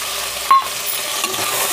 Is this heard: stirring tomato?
yes